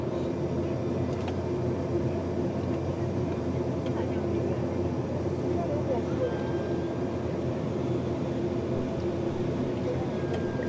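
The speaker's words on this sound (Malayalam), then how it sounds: "വിമാനത്തിൻ്റെ പ്രൊപ്പല്ലർ കറങ്ങിക്കൊണ്ട് വിമാനം അതിവേഗം റൺവേയിലേക്ക് ഓടി" A steady, loud propeller airplane engine drone roars without pause as the plane speeds down the runway for takeoff, with voices talking faintly beneath it.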